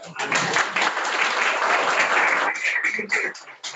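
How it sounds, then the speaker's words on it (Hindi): A classroom of students breaks into sustained applause, dense hand clapping close by that runs for several seconds before thinning into a few scattered claps. "बजाओ तालियां।"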